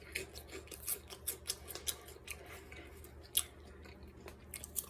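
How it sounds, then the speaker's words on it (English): Crispy microwaveable pork rinds crunched while chewing, close and fairly quiet, with a steady run of short, sharp crackling bites over about five seconds. "It's really crispy though. You hear that crunch?"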